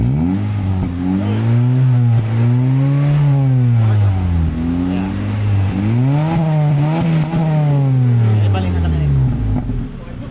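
A 2012 Honda City with an aftermarket muffler revs repeatedly near 2000 rpm, its exhaust note rising and falling in smooth swells several times at close range, while people talk over it.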